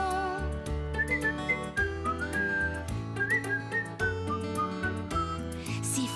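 A person whistles a cheerful melodic tune alone, sustained and clear at close range, with steady note changes and no talk over it.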